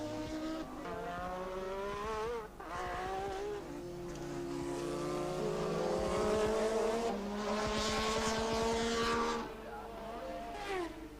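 1984 Formula 1 race cars howl around the Druids hairpin, their engines climbing and falling in pitch as they brake and accelerate through the bend, loud and close throughout.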